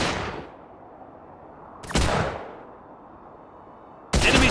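Gunfire in the Hidden and Dangerous 2 video game: three loud, booming shots with long rolling echoes, separated by pauses of about two seconds.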